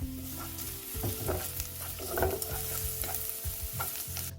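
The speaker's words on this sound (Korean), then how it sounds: "식용유 한 스푼을 두르고 강불로 당근을 볶습니다." Carrots stir-fry in a spoonful of cooking oil over high heat, with a steady hiss and sizzle broken by repeated scraping, clattering stirs of a spatula against the pan.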